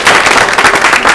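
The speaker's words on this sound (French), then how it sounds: "Applaudissez très fort pour vous." An audience applauds loudly, a dense, continuous burst of many hands clapping close by for about a second.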